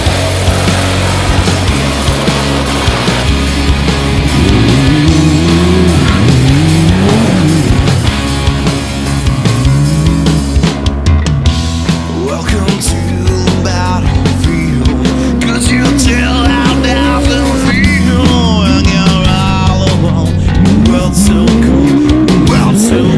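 Race cars at the Three Springs 330 event are driven flat out on a slippery surface, their engines roaring loudly and continuously with rising and falling revs and occasional tyre squeal.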